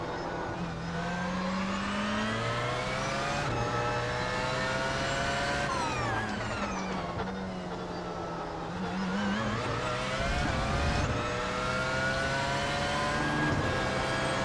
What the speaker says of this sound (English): Oh my god, where did that GTE come from?